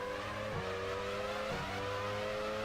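Race car engines in F1 Challenge 99-02 at the 2002 European Grand Prix whine steadily at high pitch, with two quick dips and rises as gears shift, fairly faint and without talk.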